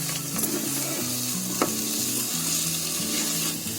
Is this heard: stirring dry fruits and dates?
yes